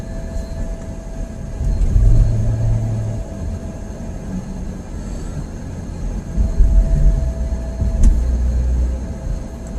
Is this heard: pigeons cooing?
no